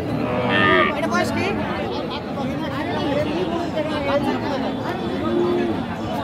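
A cow moos loudly amid a busy crowd at a cattle market, with people chattering all around in the noisy market.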